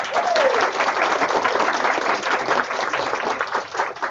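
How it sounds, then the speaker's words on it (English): Audience in a school student-support session applauds steadily for about four seconds, a dense, even wash of many hands clapping close and loud from start to finish. "can we give them a round of applause?"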